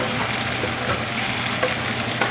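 Sous-vide flank steak goes back into a pan with onions for fajita-style tacos and sizzles loudly and evenly throughout, with faint stirring scrapes.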